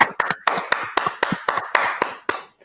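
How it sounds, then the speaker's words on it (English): At an awards closing ceremony, a small audience gives sparse claps for prize winners, around ten distinct, fairly close hand claps spaced irregularly with no talking. "Big applause."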